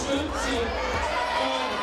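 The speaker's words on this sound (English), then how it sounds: "listen to the crowd giving her some love." A crowd at an ice climbing European Cup competition in Ostermundigen cheers and chatters steadily, a dense wash of voices with no break, and a voice speaks over it.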